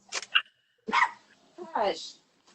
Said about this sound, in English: oh, now you want to bark